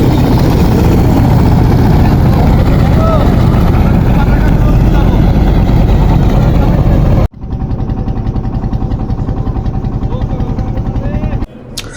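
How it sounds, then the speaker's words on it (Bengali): A loud trawler engine drones close by without pause in mid-river, its heavy throbbing cut off briefly before carrying on. "নদীর মাঝখানে যাইতেছি আমরা, এটা আরেকটা ট্রলার ক্রস করতেছে"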